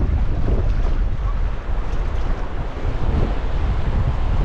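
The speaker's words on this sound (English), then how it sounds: "it is that windy" Strong wind buffets the microphone outdoors during metal detecting, with a constant low roar and rumble, steady and loud throughout, with no voices heard.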